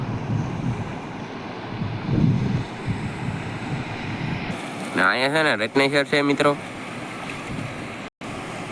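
Sea waves and wind roll steadily at the shore, a broad continuous wash with wind buffeting the microphone, while someone talks over it partway through.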